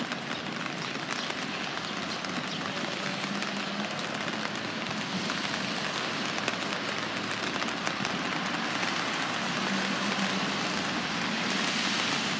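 Steady rain falls on surfaces outdoors, a dense continuous hiss of drops with no pauses, moderately loud and unaccompanied by voices.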